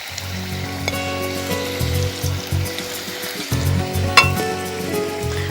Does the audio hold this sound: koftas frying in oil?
yes